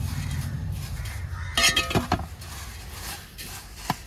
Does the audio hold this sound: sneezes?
no